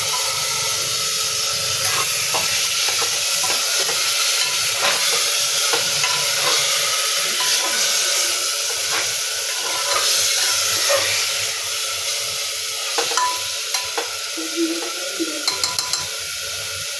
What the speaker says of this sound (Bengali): এই যে মাংসগুলো দিয়ে একটু নাড়াচাড়া করে নিলাম